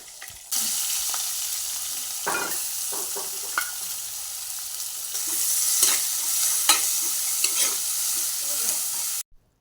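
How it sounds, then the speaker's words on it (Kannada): Onions fry in oil with a garlic tempering, giving a steady close sizzle with intermittent stirring scrapes and clinks that grow slightly louder midway and stop abruptly at the end. "ನೀರುಳ್ಳಿ ಒಂತೆ ಫ್ರೈ ಆನಗ"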